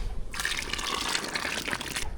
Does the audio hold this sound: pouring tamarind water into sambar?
yes